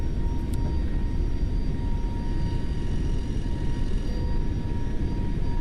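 FSLabs A321 NEO engines (LEAP) roaring during a go-around in the MSFS2020 flight simulator, a loud, steady jet rumble with a faint high whine, no talk.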